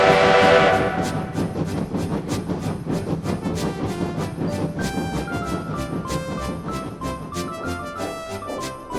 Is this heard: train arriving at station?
yes